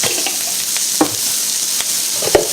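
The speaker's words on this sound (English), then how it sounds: "Just mix that all up together and stir fry it." Pork belly stir-fried with ginger and garlic in a hot pan, a close, steady sizzle with a few sharp scrapes and clinks of the spatula, no talking.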